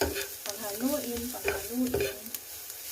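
Beef samosa filling with coriander powder, cumin and black pepper is stirred in a sizzling pan, spoon scrapes and clacks over steady frying, with a voice murmuring faintly at times.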